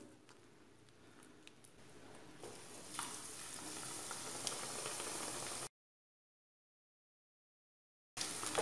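Dim shundori pitha fries in hot oil, a steady close sizzle that thickens as the pitha is tilted to sink deeper, then cuts out to silence for a couple of seconds before the frying hiss returns.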